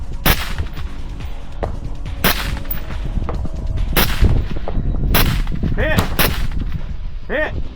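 Rifle shots ring out one after another on an outdoor target range, several sharp loud cracks spaced a second or so apart, with faint metallic pings from struck steel targets in between.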